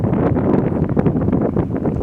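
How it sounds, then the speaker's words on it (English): Steady, loud wind buffets a microphone outdoors on a blustery day, a dense low rumbling roar with constant gusty fluctuations and no voices. "It is a windy day"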